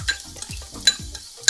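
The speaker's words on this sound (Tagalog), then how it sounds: "ang unang step natin gagawin mga kabatsoy ay igisa na po tayo ng sibuyas." Onions sautéing in a pan for beef kare-kare, heard as a few short, close bursts of sizzle and stirring scrapes spaced at roughly regular intervals with quieter gaps between.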